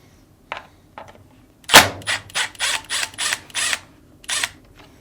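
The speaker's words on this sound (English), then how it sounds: "Finally, remove the screw securing the lid lock to the top cover." A screwdriver backs out the screw that holds the lid lock to the top cover of a Fisher & Paykel washing machine. Close, crisp ratcheting clicks come in short repeated bursts, with one louder snap early on.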